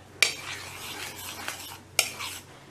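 Maruya banana fritter batter being stirred in a bowl: a soft, steady swishing and scraping, punctuated by two sharp clinks of a utensil against the bowl, close and alone.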